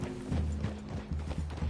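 Horse hooves clip-clopping in Red Dead Redemption 2, a steady rhythmic plodding at moderate loudness alongside low mechanical creaks and a faint tonal hum from the game.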